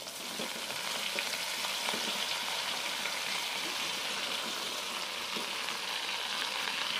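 Water spinach (kangkung) frying in a pan with wilted spice paste, a steady close sizzle and crackle with light stirring scrapes throughout.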